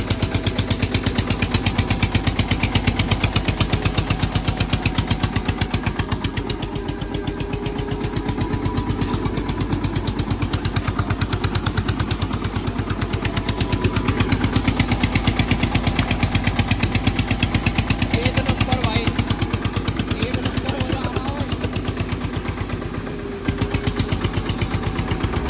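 An Eicher 242 tractor's engine runs in a close, steady, rapid knocking chug throughout, loud and continuous with slight variations in load and no talking.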